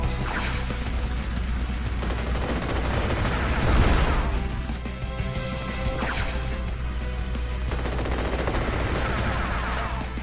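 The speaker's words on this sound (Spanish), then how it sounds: "Estás viendo que nos estamos agarrando a balazos" Gunfire in the war strategy game Advance Wars: Days of Ruin comes as bursts of rapid shots and crashing impacts over a busy game soundtrack, loud and dense throughout.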